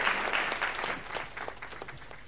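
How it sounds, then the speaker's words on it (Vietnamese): Concert audience at a live show applauds, a steady wash of clapping that starts strong and gradually thins, fairly close and filling the whole moment with no talk over it. "Xin cho một tràng pháo tay nữa, sự kết hợp rất đẹp."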